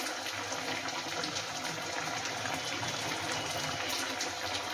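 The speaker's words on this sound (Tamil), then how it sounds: "இதில் கொஞ்சமாக புளியை கரைச்சி நம்ம ஊற்றிக்கணும்" Steady liquid pour of dissolved tamarind water into an oil-based eggplant and green pea curry, a continuous broadband splashing gush lasting throughout, with no talk.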